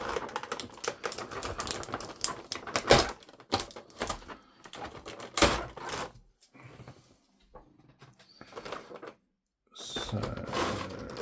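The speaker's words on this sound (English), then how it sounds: "So let's just get this tape out of the way." Tape being peeled and pulled off the packaging of a Marvel Legends Gamerverse action figure, giving bursts of crackly ripping and crinkling, close and fairly loud, with brief pauses between pulls.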